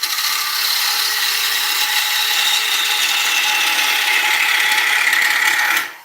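A woodturning gouge cuts a decorative oak bowl spinning on a lathe, making a steady, loud, close scraping hiss that holds evenly for several seconds and then stops abruptly.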